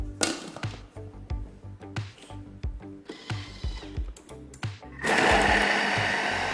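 A Thermomix works dough ingredients with a lumpy, rhythmic churning and knocking, then switches to a loud, steady high-speed whir.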